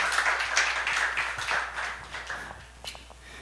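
A high-school church service group gives a modest round of clapping, a thin scattering of hands fairly distant and quiet in a reverberant room, tapering off toward the end.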